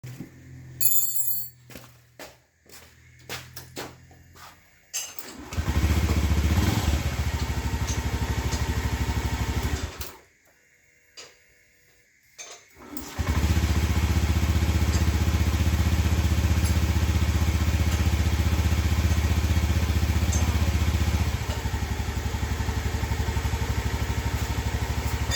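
A Honda motorcycle engine idles steadily at close range after a TPS sensor is fitted, a constant low rumble, broken by a few seconds of near silence and some clattering at the start.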